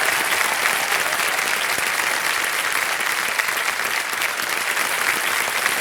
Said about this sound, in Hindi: तालियां बज जाए जोरदार।